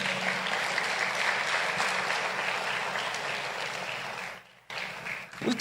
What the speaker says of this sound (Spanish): ¿Cuánto le dan palmas al Señor?